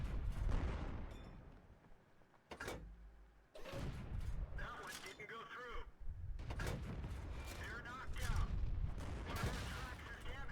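Booming artillery shots in a tank battle video game crack out several times over close, excited talk, with sharp bursts separated by short gaps.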